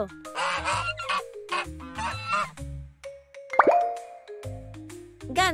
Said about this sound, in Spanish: Este es el sonido que hace el ganso.